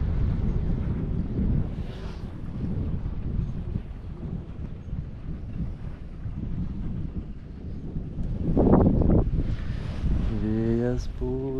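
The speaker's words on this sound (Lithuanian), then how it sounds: "Vėjas pučia" Wind gusts roar across a lake while kayaking at Trakai's Galvė Lake, with broad, rushing wind buffeting the microphone, water and boat noise underneath, and brief voices near the end.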